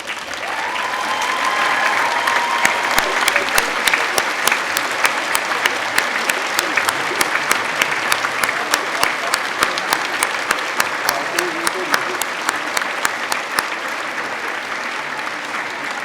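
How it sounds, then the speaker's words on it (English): A large audience at a Birmingham degree ceremony applauds steadily for a long stretch, the clapping dense and sustained, with a faint tone sounding near the start. "Can I ask the graduates to stand and to applaud their family and supporters?"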